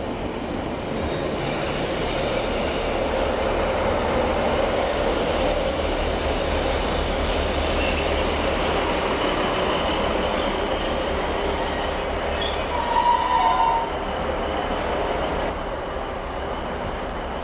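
A Northern train rumbles steadily alongside a station platform in Bolton, with a continuous low mechanical drone, faint high squeals of wheels, and a brief louder clatter near the end.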